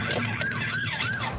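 An ambulance siren wails in rising and falling sweeps over loud road and engine noise, close and continuous.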